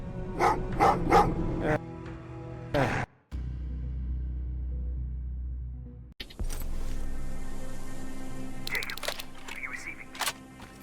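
Dogs bark in the Terminator Resistance video game: a quick cluster of sharp barks up front, then a quieter stretch and more game sound with voices speaking.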